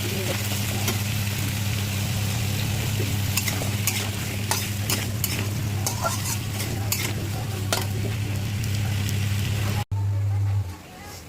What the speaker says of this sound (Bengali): কচুটাকে খুব ভালোভাবে ভেজে নেবো।